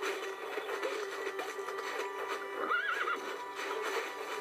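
Horse in a zoo management video game whinnies once mid-clip, a rising then falling neigh over steady game ambience and soft hoof-like clopping, fairly close and clear.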